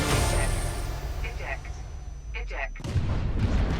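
A ship explodes in the space game Elite: Dangerous, a loud deep boom that roars and rumbles for a few seconds before a second heavy burst of blast noise hits near the end.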